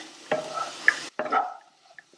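Potatoes frying with masala powder in a pan over a medium-high flame: two quick scraping stirs over a light sizzle that fades at the end, close and fairly quiet.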